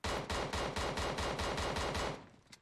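Rapid automatic gunfire from a gun in PUBG Mobile, version 0.9, rattles off as a loud sustained burst of about a dozen evenly spaced shots, then trails off into a single faint click.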